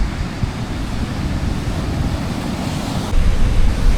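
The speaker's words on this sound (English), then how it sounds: "I just enjoy just sitting here watching this ocean." Ocean surf rolls steadily onto a pristine shore on a fishing road trip, a continuous broadband wash with wind buffeting the microphone, swelling louder near the end.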